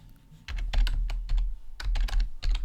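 Keys clatter on a computer keyboard in quick irregular bursts with short pauses between them, close and clear, no voices.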